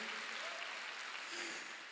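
Congregation applauding during a Sunday church service, a continuous even roar of clapping from many hands with no gaps.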